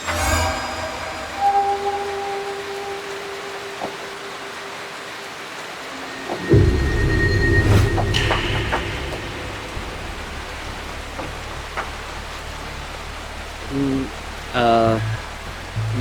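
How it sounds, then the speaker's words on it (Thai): Steady rain falls with a deep rumble of thunder rolling in partway through, loud and close, with scattered background tones. "ฝนก็ตกด้วยอ่ะ"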